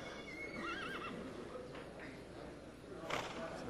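A racehorse whinnies with a rising, wavering call before a race, then neighs again more sharply near the end, over a constant background of racecourse crowd noise.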